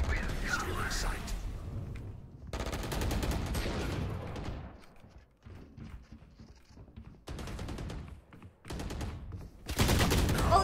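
Bursts of gunfire in Valorant, several loud volleys separated by gaps with quieter game sounds and some talk between them.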